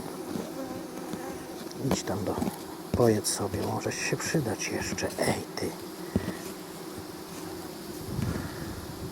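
Honeybees buzz close by over a buckwheat field, with varied passing hums and sharp fly-by swells while a person speaks quietly throughout.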